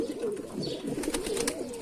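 Mardin pigeons cooing in a loft, a steady low murmuring coo running throughout with faint higher chirps and rustling layered on top.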